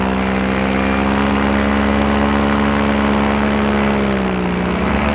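A helicopter flying near hot air balloons at evening, its rotor and engine drone loud and steady from start to end, close, with a constant buzzing hum that shifts slightly in pitch.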